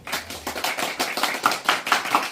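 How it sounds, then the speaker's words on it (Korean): An audience at a Korean MOU signing ceremony claps in a steady, fairly close run of distinct handclaps, growing slightly fuller toward the end with no talk over it. "오늘 큰 박수 한번 주시죠"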